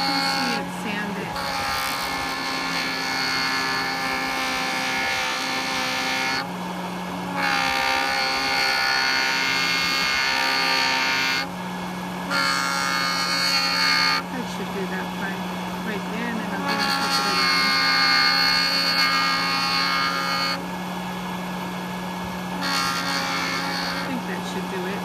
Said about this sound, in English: I'm going to smooth it down with a fine grind micro finishing. So this is a 15 micron